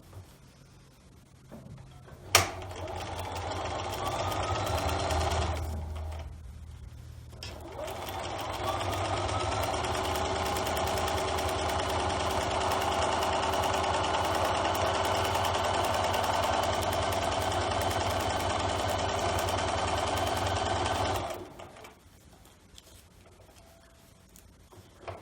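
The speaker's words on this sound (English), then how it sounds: "now I'm going to sew on the back side and right along the edge of that line" A sewing machine runs steadily for about fifteen seconds as it stitches along the edge of fabric on the back side, with short pauses and quieter handling before and after the continuous whirring run.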